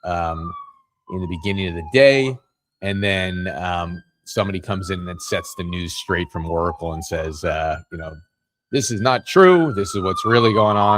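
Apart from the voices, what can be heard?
police sirens in the background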